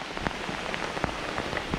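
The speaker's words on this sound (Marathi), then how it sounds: "पाऊस आहे ना खतरनाक आला जोरात आला" Heavy monsoon rain pours on a high hillside, a dense steady hiss with scattered louder drops and patters throughout, close and continuous with no talk.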